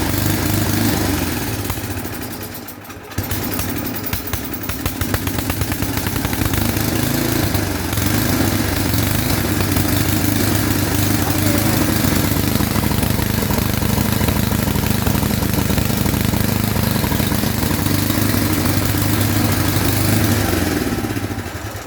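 A snowblower's small engine runs loud and steady at a constant idle, with a brief dip near the start before it settles into an unbroken drone.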